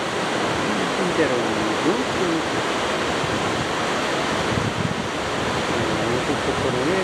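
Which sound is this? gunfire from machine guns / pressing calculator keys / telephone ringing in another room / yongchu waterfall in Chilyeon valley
yongchu waterfall in Chilyeon valley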